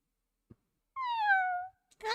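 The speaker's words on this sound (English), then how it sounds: "Looking down, you see a kitty cat at your feet." A single clear cat meow from a video game, near and distinct with a falling tone, preceded by a faint tap and followed by a brief burst of another sound.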